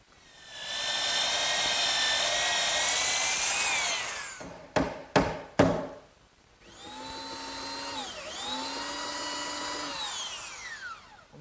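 A belt sander grinding excess dowel flush on a wooden chair arm makes a loud, high whine for several seconds. Three short bursts follow, then a second long run whose pitch dips and rises as the load changes.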